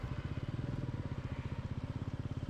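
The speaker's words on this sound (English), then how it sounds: "Let me park my bike first." A Royal Enfield Meteor 350 single-cylinder engine thumps at low idle while the motorcycle is being parked, a steady, close, rhythmic putter with no talk over it.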